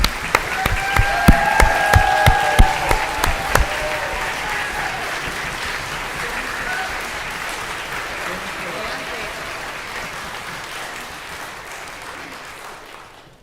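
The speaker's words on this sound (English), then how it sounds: "A big round of applause for all of our seniors." A concert hall audience applauds graduating senior orchestra members with full, steady clapping. A few sharp, louder claps stand out early, then the sound thins and slowly fades over more than ten seconds.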